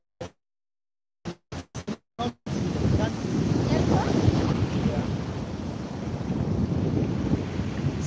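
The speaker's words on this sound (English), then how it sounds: "These waves are strong, you know." Strong ocean waves crash and surge on a shore, rough and windy with heavy wind buffeting the microphone; a few short bursts of voices come first, then the steady roar of the surf.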